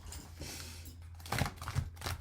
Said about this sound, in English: Let's shuffle these and just pick one and see what it says.